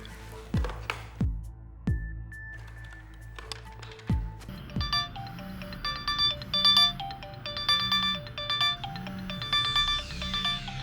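A telephone ringback tone with repeated electronic beeps in a steady pattern, preceded by a few sharp taps like keypad presses, heard clearly with a soft background hum and no talking.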